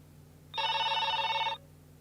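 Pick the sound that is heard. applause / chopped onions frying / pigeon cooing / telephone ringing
telephone ringing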